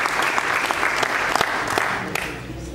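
A crowd at a rally claps in a brief, dense burst of applause with a few sharper individual claps standing out.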